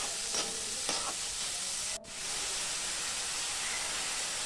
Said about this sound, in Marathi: आता हा कांदासुद्धा आपल्याला छान असा लालसर होईपर्यंत मस्त परतवून घ्यायचा